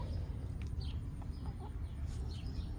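Backyard chickens make soft, scattered clucks over a steady low outdoor rumble, faint and a little distant, with several short calls across about three seconds.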